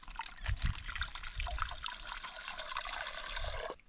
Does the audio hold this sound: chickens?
no